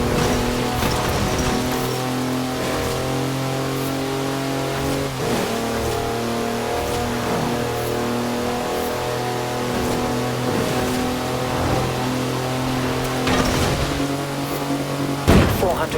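A car engine droning steadily while driving in the racing game Forza Horizon 4, a loud continuous hum with small shifts in pitch and brief clicks, no talk over it.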